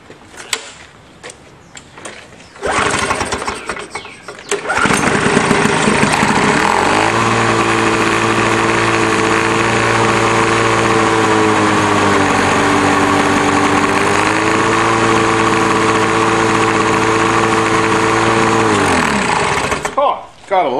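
A garbage-picked Lawnboy 4.5 hp lawn mower that had sat for years, started with the choke on and no prime. It gives a couple of short pull attempts, then catches and settles into a loud, steady running drone that holds until it cuts off near the end.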